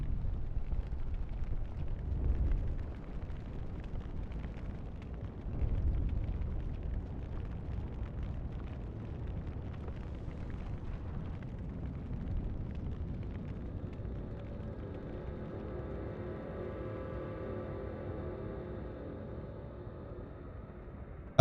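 A tree set ablaze in Elden Ring: a low, deep roaring rumble with a couple of heavier surges early on, settling into a steady muffled burning drone that carries on to the end.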